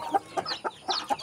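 A chicken clucks near newly hatched chicks, giving five or six short, quick clucks close by, with soft peeping mixed in.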